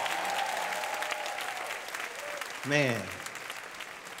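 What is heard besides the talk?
audience applause at a senior pageant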